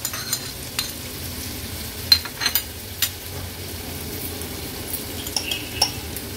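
Finely chopped large onion goes into about three tablespoons of hot oil in a pan for an Agri-Koli seafood thali. A soft sizzle sits under scattered utensil clinks and scraping taps, fairly quiet, with no voices.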